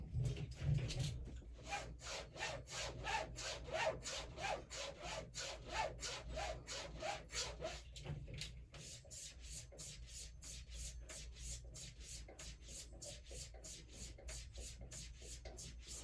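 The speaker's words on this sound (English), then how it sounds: "We're going to go ahead and strop." A straight razor is stropped with quick, regular back-and-forth strokes, a steady rhythmic rubbing that runs continuously, fairly faint and close, with no talk.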